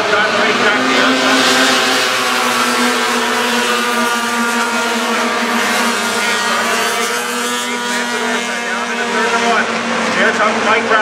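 Outlaw midget race cars roar down the straight into turn one at Sunset Speedway. Their engines form a loud, continuous, high-pitched drone that swells slightly as the pack passes, with no break in the noise.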